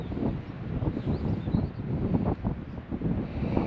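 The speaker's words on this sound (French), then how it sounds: "Il y a un peu de vent, hein." Steady, loud wind buffeting a microphone during a coastal hike among sea dunes and forest, a continuous low roar that gusts unevenly throughout with no voices.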